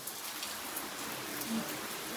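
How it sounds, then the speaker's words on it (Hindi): Steady heavy rain falls without letup, a dense even hiss of drops striking surfaces close by, with no voices. "आज जो है बारिश रुकने का नाम नहीं ले रही"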